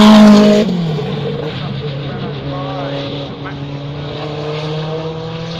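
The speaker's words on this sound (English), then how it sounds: "Loads of torque. Yep, Renault 5 Maxi Turbo." Renault 5 Maxi Turbo engine at a classic car hillclimb event, a steady drone with harmonic tones rising as it revs, heard under talk after a loud opening burst.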